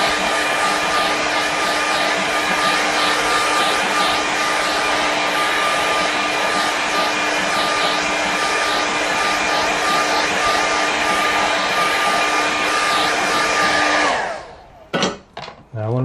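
A hair dryer blows steadily to quick-dry paint on a painting, a loud continuous whirring hum with a steady whine that cuts off near the end, followed by a few brief rustles.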